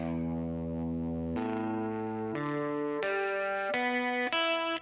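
An electric guitar with a distorted effect rings out single sustained notes, one after another, to check its tuning: about six strings plucked in turn, each held and loud, close, with no talk.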